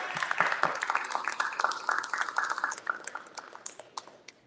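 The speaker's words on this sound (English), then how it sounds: "Give Satura Ned a round of applause, please." A crowd at a vigil and art exhibition claps, a moderate scatter of individual hand claps at mid distance that thins out toward the end.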